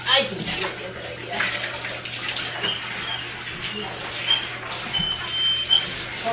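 Running water rinses a Great Dane puppy in a bath, a continuous near splashing and pouring wash with faint voices in the background.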